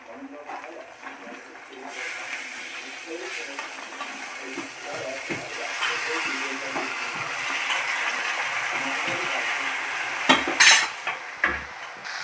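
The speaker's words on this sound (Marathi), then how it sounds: "या टाकल्यानंतर आपण ते चांगलं मिक्स करून घेणार आहोत." Spoon stirring and mixing dingri mushrooms with red chilli and turmeric in a pan, steady scraping and light sizzling close up, ending with a few louder clanks against the pan.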